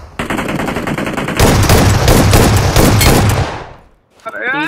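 Gunfire in a mobile shooter video game: rapid automatic bursts, loud and close, that run continuously for several seconds before stopping, followed by a short electronic game sound.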